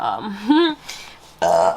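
A long, voiced burp rising in pitch and ending abruptly, loud and close, with no talking around it.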